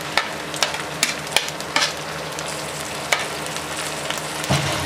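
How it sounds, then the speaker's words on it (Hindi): Green chillies fry in a pan with a steady sizzle, broken by sharp clicks and scrapes of stirring, loud and close with no voices. "अच्छे तरीके से फ्राई करेंगे।"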